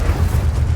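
Incendio fire spell cast in a Harry Potter video game, a continuous deep rumbling whoosh of flame with low booming body, loud and close, lasting under a second with no talk over it.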